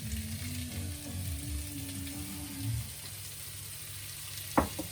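Onions and peppers fry in hot oil for a Sri Lankan curry, giving a soft, steady sizzle with a low hum and a brief clatter near the end.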